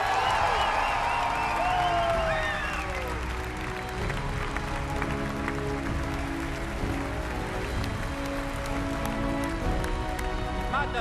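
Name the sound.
audience applause at E3 presentation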